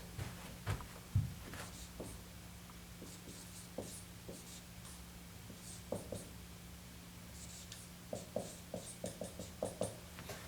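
Pen or marker writing by hand on a surface while a geometry congruency statement for similar triangles is worked out, heard as scattered soft scratchy strokes and taps at close range with no talk.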